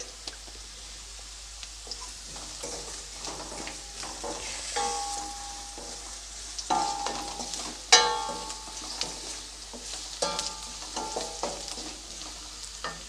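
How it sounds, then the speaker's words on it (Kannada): Onions frying in a pan with salt added while making pepper rice, a steady low sizzle with intermittent stirring and scraping of a spoon against the pan, plus a few clinks, close and moderately quiet. "ಈಗ ಈರುಳ್ಳಿ ಚೆನ್ನಾಗಿ ಫ್ರೈ ಆಗಿದೆ"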